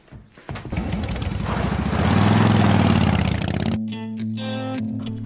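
A big motorcycle engine revs up into a loud, rough, building roar, then drops back to a steady lower idle hum, with no talk over it.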